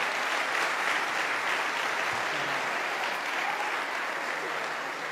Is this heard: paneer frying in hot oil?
no